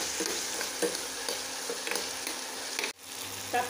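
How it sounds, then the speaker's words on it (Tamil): Finely chopped tomatoes sautéing in a pan with a teaspoon of salt: a steady, close sizzling hiss with occasional scraping stirs and a brief pause near the end. No voices. "தக்காளி வதங்க 1 டீஸ்பூன் உப்பு போட்டு வதக்கிக்கோங்க."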